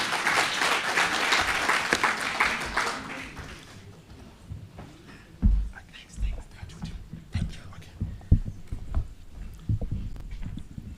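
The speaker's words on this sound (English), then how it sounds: "A big round of applause, ladies and gentlemen." Audience applause at a World Teachers Day ceremony, a dense burst of clapping for the first few seconds that quickly fades into scattered claps, taps and shuffling in the room.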